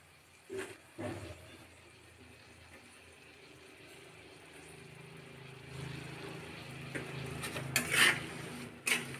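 A gourd and prawn curry is stirred in a pan, giving quiet scraping and rubbing sounds with a few sharper clinks of the utensil against the pan over a faint background hum.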